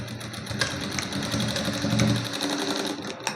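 A sewing machine stitches a tassel onto a blouse, its needle whirring in a fast, even mechanical rhythm, close and loud, with a few sharper clicks as the run ends.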